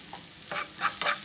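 Broccoli and mixed vegetables, seasoned with salt, stirred in a pan as a stir fry. A few quick, soft scraping strokes sound over a faint sizzle, close by.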